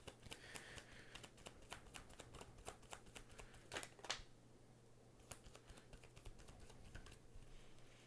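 Tarot cards being shuffled close by, a run of quick crisp riffling clicks and slaps at an uneven rhythm, soft and quiet with no talking.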